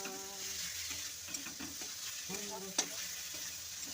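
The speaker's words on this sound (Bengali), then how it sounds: "সুন্দর লাউ ভাজাটি অল্প করে হচ্ছে" Bottle gourd (lau) frying in a pan, a steady close sizzle with stirring scrapes and one sharp utensil clink near the end.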